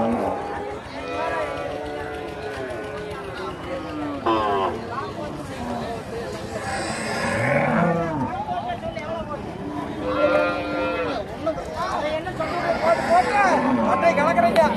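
Sevalai (red) cattle low at the large Thennampalayam cattle market in Tiruppur, with several deep, drawn-out moos rising over a steady crowd hubbub while people talk nearby.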